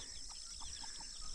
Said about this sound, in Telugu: కోళ్ళు కూడా పెంచుతున్నారు